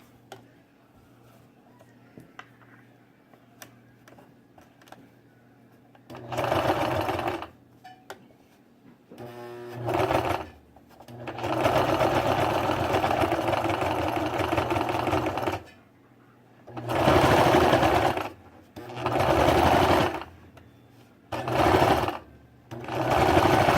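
A sewing machine stitches baby leggings, including a back stitch, with loud, close bursts of steady mechanical whirring that start and stop several times, separated by brief quiet gaps.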